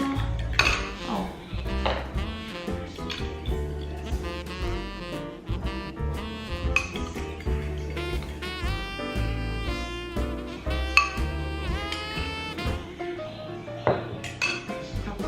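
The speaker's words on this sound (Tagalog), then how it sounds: "Ito yung gagamitin kong container or microwave maker." A plastic microwave omelette maker container is handled in a kitchen, giving repeated clattering knocks and light clinks scattered throughout at close range, with some talk underneath.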